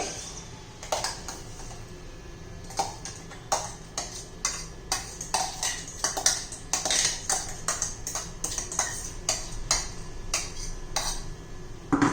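Metal spoon scraping coarsely ground green tomato chutney out of a grinder jar into a small bowl, a string of sharp clinks and scrapes in an irregular rhythm, close and fairly loud with no talking.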